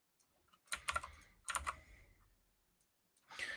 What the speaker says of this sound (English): I'm just typing out a few variables here